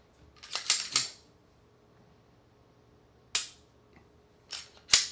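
Sharp mechanical clicks from a Glock 17 Gen 6 pistol as its trigger is pulled, heard close and dry in small clusters: a quick triple near the start, then single and paired clicks separated by quiet pauses.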